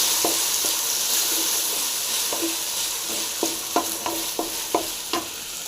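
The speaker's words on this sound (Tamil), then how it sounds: "நல்லா ஃப்ரை ஆகுது தக்காளி" Tomatoes fry in a pan for a ridge gourd and coconut water dish, making a continuous sizzle with a series of light scraping stirs that come more often toward the end. No voices are heard.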